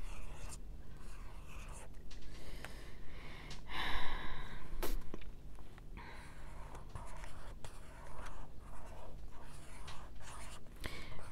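Pen scratching on paper during a tarot-style reading, with close, soft strokes in short bursts under occasional breathy murmuring and quiet speech.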